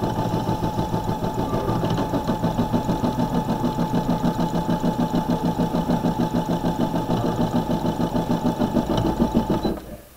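An embroidery machine runs a basting stitch, putting a monogram bag down; its steady rapid mechanical chatter continues loud and close for about ten seconds, then stops abruptly.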